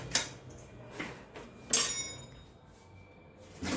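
A metal spoon handled among dishes, with a few sharp close clinks and knocks, one ringing strike in the middle and a brief rattle at the end, all in a quiet room.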